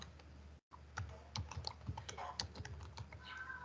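Quiet, close keystrokes click on a computer keyboard in an irregular burst of short taps, with a brief gap near the start, as a line of Python code is typed.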